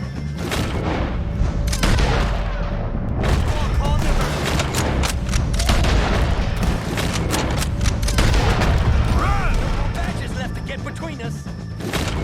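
Gunfire in the video game Red Dead Redemption 2 during a shootout with O'Driscolls, loud and dense with rapid overlapping shots, crashes and in-game shouting throughout.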